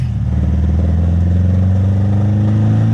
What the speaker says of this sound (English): It's probably a loose cylinder head. That's what it sounds like.